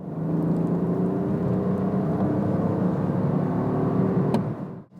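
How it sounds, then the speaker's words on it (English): A BMW 118i three-cylinder engine works hard from inside the cabin, a steady droning hum with rising harmonic tones that hold for several seconds before briefly dropping away at the end. "the 118i sounds better than any other 1 Series apart from perhaps the M140i when you're working it hard."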